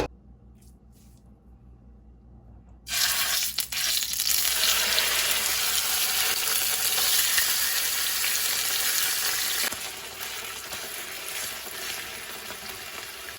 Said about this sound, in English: I'm gonna use the same pan to brown the pork tenderloin